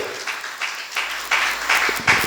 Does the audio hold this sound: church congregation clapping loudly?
yes